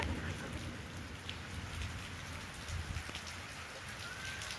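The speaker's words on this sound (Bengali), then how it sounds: "অনেক বৃষ্টি হচ্ছে" Heavy rain pours steadily on a rooftop, a dense continuous hiss of drops drumming on surfaces with a low rumbling undertone throughout.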